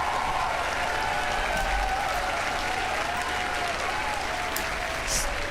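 Sustained crowd applause and cheering at a SpaceX Starship launch broadcast, a dense, even roar of clapping throughout with a faint tonal whine drifting underneath.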